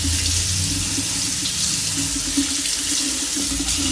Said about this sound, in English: So I'm gonna run this water pretty hot.